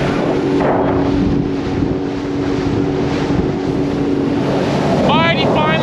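Strong wind roars steadily into the microphone while riding a Sea-Doo on open water, with engine drone and water rush beneath it and a voice briefly speaking near the end.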